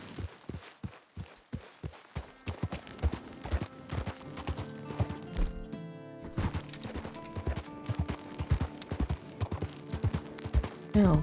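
A horse's hooves pound rhythmically in a steady gallop in the video game Red Dead Redemption 2, close and distinct throughout, with brief game sounds layered in.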